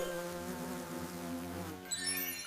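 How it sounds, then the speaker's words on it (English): A bee buzzing close by gives a steady, droning hum for about two seconds before a brief louder shift at the end. "What's that buzzing sound? It's a bee."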